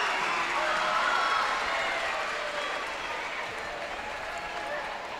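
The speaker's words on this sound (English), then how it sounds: "the Westfield fans giving a round of applause" Basketball fans at a girls' high school sectional championship game applaud steadily in a gym, a broad continuous wash of clapping that stays fairly even and slowly eases over several seconds, with crowd murmur mixed in.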